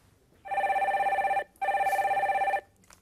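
Telephone bell ringing through as a radio call-in caller is connected, two loud sustained ring bursts separated by a brief pause, heard alone with no talk.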